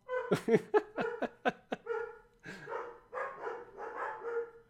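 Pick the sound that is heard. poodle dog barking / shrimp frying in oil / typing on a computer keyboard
poodle dog barking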